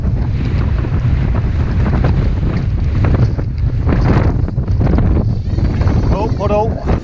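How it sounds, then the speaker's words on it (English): Strong gusts buffet the microphone during a long road bike ride through a valley, a loud constant roar of wind noise, and a voice briefly speaks near the end. "The wind is all over the place, it's in every direction."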